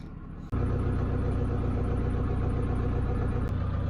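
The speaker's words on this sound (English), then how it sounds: "So the engine's been on for quite a while now." After a brief pause, a car engine idles with a steady low rumble and faint high whine, running continuously and close by.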